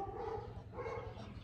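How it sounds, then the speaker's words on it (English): A Pomeranian barks twice in quick succession, fairly close but soft, over a low steady background hum. "Who's that dog barking?"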